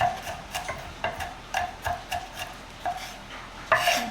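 Sharp knife chopping ingredients for homemade Italian meatballs on a cutting board, a run of quick, fairly faint, irregular taps close by, with no talking.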